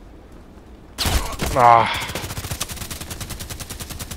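Rapid bursts of gunfire in the Contract Wars shooter on the Carpound map, a loud opening blast and then steady automatic rattling, with a short exclamation from a player over it.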